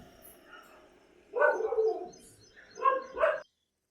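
Street dogs bark in a quiet spot: a rough cluster of barks, then a short pause and two more sharp barks, moderately close.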